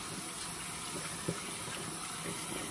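Tap water running steadily into a sink while hands are washed, a soft continuous rush with a faint splash partway through, fairly quiet and close with no talking.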